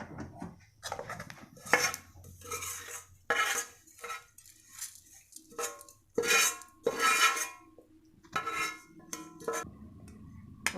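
Roasted sesame seeds tipped out of a cooking pan in a home kitchen, giving irregular metallic scrapes, clinks and rattles of pan against dish in short bursts, close and moderately loud with quiet gaps between.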